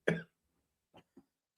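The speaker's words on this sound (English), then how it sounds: "Still got my chesty cough." A single sharp chesty cough, close and fairly quiet, followed by a couple of brief soft throat sounds in an otherwise silent room.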